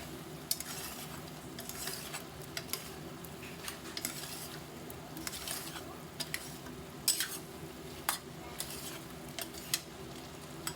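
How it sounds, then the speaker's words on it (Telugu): Spices are stirred into chicken curry in a pressure cooker, giving a steady sizzle with repeated scraping of the spoon against the metal pot. "ఇప్పుడు ఇలా కలుపుకున్న తర్వాత ఈ స్పైసెస్ అన్నీ"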